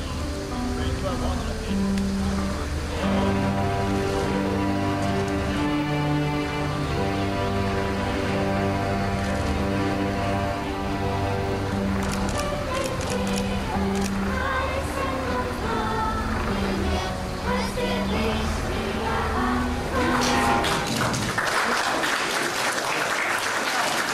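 Long, steady applause fills a hall as the Federal President enters, a dense wash of clapping mixed with music playing underneath, ending abruptly near the close.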